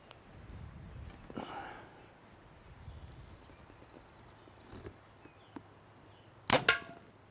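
An arrow tipped with a Magnus 125 single-bevel broadhead strikes a solid concrete block at 10 yards: a sharp, loud crack followed by a quick rattling clatter, after a stretch of quiet outdoor ambience.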